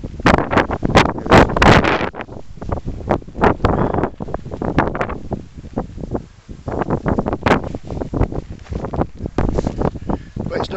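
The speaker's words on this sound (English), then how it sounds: "A bit windy." Wind buffets the microphone on the coast near a seal colony and sand dunes in winter, loud irregular gusts that roar and drop back, dominating the scene.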